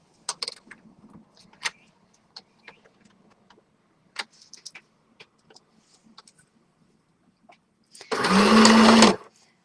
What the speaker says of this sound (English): So forward stitching, let me go up a bit